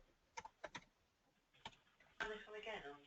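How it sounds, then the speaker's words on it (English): A few scattered computer keyboard keystrokes tap out at close range in a quiet room, then a person starts talking over the last part. "I'm going to type you one now."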